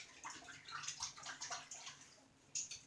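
Hands being rinsed under running tap water in a home kitchen after mixing chicken meatloaf, a soft steady splashing stream with small sloshes, fairly quiet and without talk.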